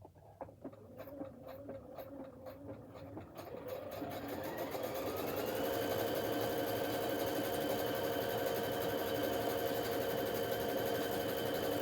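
A Pfaff Expect 350 sewing machine works a stretch stitch meant for stretch fabrics. Scattered ticks come first, then the motor builds into a steady, loud, continuous whir.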